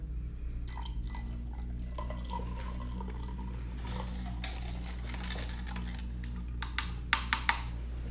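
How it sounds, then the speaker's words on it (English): Blue water poured into a glass holding syrup for a buoyancy experiment, a soft steady trickle under low hum, ending with a few sharp clinks and taps near the glass. "Then we're gonna add the blue water."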